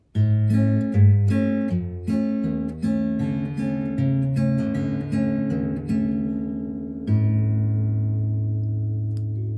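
Solo guitar plays a short passage of picked notes and chords and then settles on the open fifth string as its final note. The low A rings alone for the last few seconds and slowly fades.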